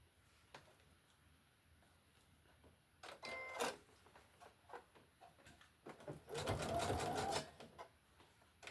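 A sewing machine back stitching, short whirring runs of rapid needle strokes in two main bursts separated by quieter clicks and handling, close and fairly faint.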